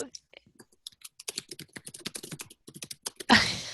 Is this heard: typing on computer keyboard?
yes